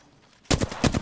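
Rapid gunfire in Apex Legends, several sharp bursts close and loud after a short quiet lead-in, no talk over them.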